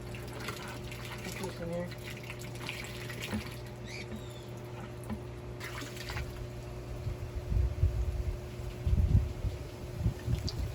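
A garden hose sprays water into a pond filter to flush it out, a steady rushing and splashing that swells louder toward the end, with a person talking briefly over it and birds faintly in the background.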